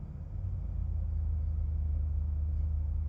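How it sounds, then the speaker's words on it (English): A loud car passing by outdoors, a low steady rumble swelling in and holding throughout, with no talk over it. "Jeez, that car was loud."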